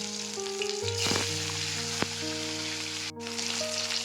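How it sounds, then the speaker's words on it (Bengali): Pieces of rui (rohu) fish fry in hot oil in a pan, giving a loud, continuous close sizzle with a few brief stirring clinks and no talking. "তার আগে মাছগুলোকে ভেজে নিই"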